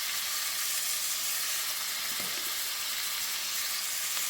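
Food sizzles steadily in olive oil in a pan, a constant bright hissing fry that holds at even loudness throughout with a faint clink partway through, no talking.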